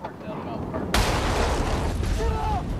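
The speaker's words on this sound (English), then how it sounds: "Explosions like this one happen with startling regularity in Iraq." A roadside bomb blast against a Humvee in Iraq hits suddenly after a quieter opening, a loud broadband burst that leaves a dense, rumbling roar lingering under faint voices.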